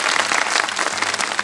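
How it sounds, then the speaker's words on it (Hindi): Studio audience on a kids' segment of a television show breaks into loud, dense applause, many hands clapping continuously and close to the microphones without any talking. "तालियां बजा दे भाई"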